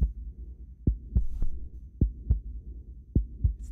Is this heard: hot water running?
no